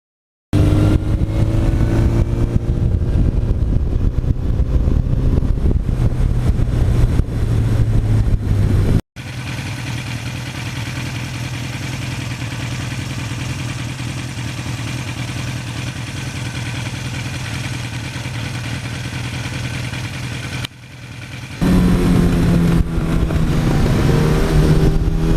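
A 1982 Suzuki GS1100E motorcycle engine runs up through the gears, a loud, continuous rumbling drone that shifts pitch between steady stretches, slightly louder than stock, with no one talking.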